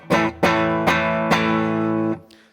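A clean electric guitar runs through a Veritas Portlander into a Jackson Ampworks Fullerton amp. Four bright strummed chords ring out in a steady rhythm, with the last one held and then fading out.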